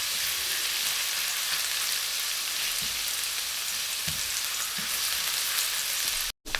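Garlic frying in a pan for a pepper chicken and broccoli dish gives off a steady, dense sizzle that runs evenly throughout, with a brief break just before the end.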